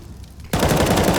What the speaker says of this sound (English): Finally, you can see him firing off a shot.